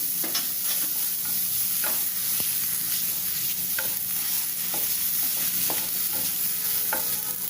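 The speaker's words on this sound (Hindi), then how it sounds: "थोड़े से हल्के भून जाए, इसलिए इसको थोड़ा सा भूनना है। और अब हम ये मटर डाल देंगे।" Cashews frying lightly in a pan with frozen peas tipped in for a samosa filling, giving a steady, dense sizzle with scattered scraping stirs and clicks throughout, close and continuous with no talking.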